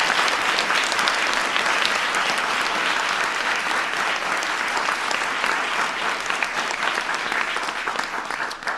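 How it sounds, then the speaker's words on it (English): A big round of applause for a student named Maya at a 2016 Obama speech: sustained, thick clapping from a large audience, loud and steady for several seconds before tapering slightly. "So give Maya a big round of applause"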